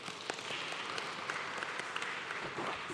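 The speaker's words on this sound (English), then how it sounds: "So can we have a big round of applause again for John?" An audience applauds a lecturer at a public lecture, with dense, even clapping from many hands sustained at a steady level for about three seconds.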